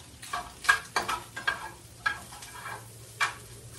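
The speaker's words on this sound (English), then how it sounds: "I'm cooking me some hamburger meat in my skillet" Hamburger meat frying in a skillet, with a steady close sizzle broken by repeated scraping and stirring strokes at an irregular rhythm.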